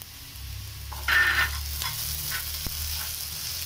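Onion with crushed ginger and garlic sautés in a pan with a steady close sizzle, a brief louder hiss flaring as ingredients drop in, then a few light spoon taps and stirs, no voices.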